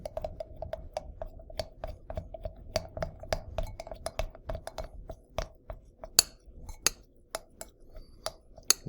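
A ferrofluid mixture stirred in a glass, with irregular sharp clinks and taps of the stirrer against the glass, close and fairly quiet, without talk.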